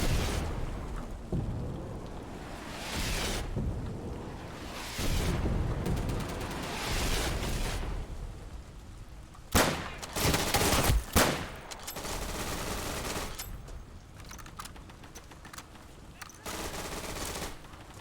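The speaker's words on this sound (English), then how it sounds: "Alright, I'm not watching that with two machine gunners there." Machine gun fire in the World War II shooter Day of Infamy, dense automatic bursts over game ambience and distant battle noise, with a loud close burst of shots about halfway through.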